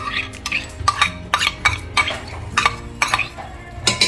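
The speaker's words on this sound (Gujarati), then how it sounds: "હવે આપણે મિત્રો લીલા મરચાં અને આદુ મિક્સ કરીશું" Green chillies and ginger being mixed in a bowl or pan with a spoon, heard as a quick irregular run of clinks and scrapes, close and moderately loud, with no talking.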